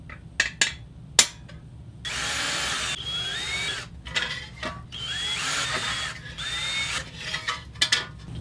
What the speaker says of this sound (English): The holes are all drilled, the old pattern's been cleaned off, it's all clean.